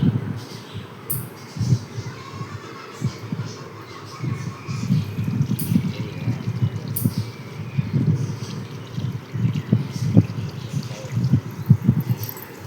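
A mango seed being washed under water at home, with irregular splashing, rubbing and trickling close by, fairly loud and continuous.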